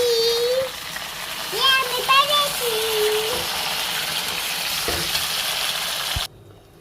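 Browned onions fry in a pan with tomato and green chili, a steady close sizzle with brief stirring scrapes, while a voice speaks over the first few seconds before the sound cuts off abruptly.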